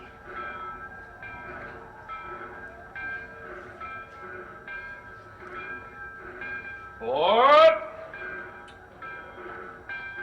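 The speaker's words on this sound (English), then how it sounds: "That's your train, lady." A train arriving at a station rumbles with a clanking, rhythmic rattle of cars, and a brief rising whistle-like squeal sounds midway over the steady rolling noise.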